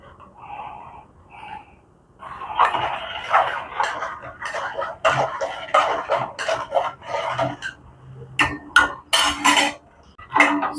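Sugar stirred into melon juice with a spoon in a steel vessel, a fairly close run of repeated scraping and clinking strokes that starts after a quiet moment and continues steadily with a few sharper metallic taps near the end.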